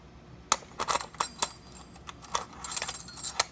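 TR-47 and Toyota keys jangle and clink close by in repeated bright metallic bursts, starting abruptly and continuing in irregular shakes throughout, with no talking.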